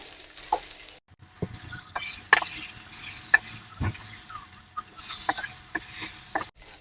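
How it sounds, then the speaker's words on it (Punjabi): Green chillies roast in a pan for a mixed amla, ginger, chilli and galgal pickle, a light sizzle punctuated by repeated sharp scrapes and clinks of stirring, close and moderately loud. "ਨਾਲ ਹੀ ਮਿਰਚਾਂ ਪਾ ਦਾਂਗੇ ਮਿਰਚਾਂ ਨੂੰ ਥੋੜਾ ਸੇਕ ਲਵਾ ਲਈਏ"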